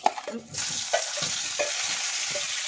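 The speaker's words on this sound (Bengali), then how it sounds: "তেল গরম হয়ে গিয়েছে এই ফুলকপিগুলো আমি এর কষে নেব" Cauliflower florets coated in salt and turmeric frying in hot oil, a sudden loud sizzle kicking in and holding steady, with several scraping stir strokes close by.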